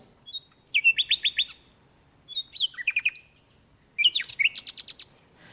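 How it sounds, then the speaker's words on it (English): A nightingale sings in three separate bursts of rapid, bright trilled notes with short pauses between them, clear and close against a quiet background with no talking. "I think I have a nightingale recording here"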